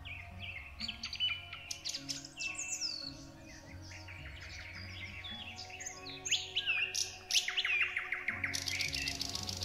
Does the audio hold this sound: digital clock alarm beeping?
no